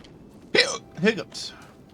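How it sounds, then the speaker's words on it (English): Hiccups in the puzzle game The Talos Principle 2, three short voiced bursts in quick succession, clear and close with a rising, gulping quality. "Hiccups."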